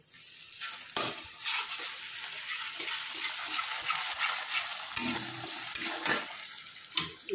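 Steady, close sizzling of potatoes, garlic, ginger and drumsticks frying in a pan, with occasional scraping and stirring sounds over the continuous hiss.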